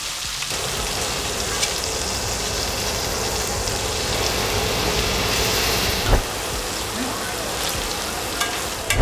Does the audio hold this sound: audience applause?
no